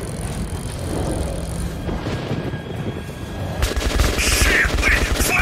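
Gunfire erupts in Metro 2033 during a tense underground fight, beginning as scattered shots beneath ambient noise and then breaking into a loud rapid burst of automatic fire near the end.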